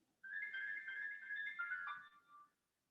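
A mobile phone ringtone rings after the phone is dropped, a bright electronic melody sounding steadily for about two seconds before cutting off, nearby and moderately loud with no voices.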